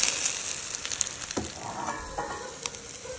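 Pancakes sizzle and fry steadily in a hot pan while being flipped, with a continuous close crackle broken by soft spatula scrapes and a couple of light knocks.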